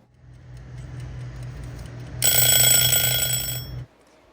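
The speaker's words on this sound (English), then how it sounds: "we are going to set the timer for 25 minutes" A kitchen timer is set for 25 minutes while zucchini boils: a soft ticking whir as the dial turns, then a loud bright ringing that lasts about a second and a half and stops abruptly.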